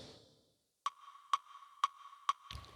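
A music beat with the reverb turned fully up plays four evenly spaced, ping-like hits, each trailing into a long washy echo, after a faint fading tail and a short silence.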